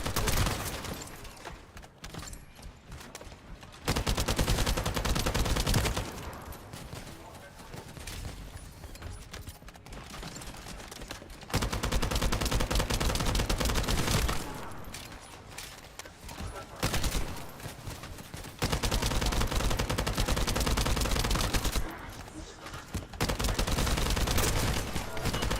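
Gunfire in the shooter video game The First Descendant, with sustained loud bursts of automatic fire and volleys that alternate with brief quieter gaps, plus some game mechanism noises and occasional voice.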